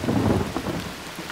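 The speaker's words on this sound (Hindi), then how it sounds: "इस मजेदार बारिश का आनंद लो।" Heavy rain pours with a low rumble of thunder, a dense, loud wash that is strongest at first and eases slightly, with no voices.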